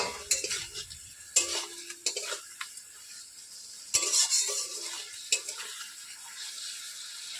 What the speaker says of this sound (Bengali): এবার ভালোভাবে পটলটাকে সর্ষে দিয়ে ভালো করে কষিয়ে নিতে হবে।